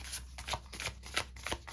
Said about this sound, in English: Still trying to get used to shuffling these cards.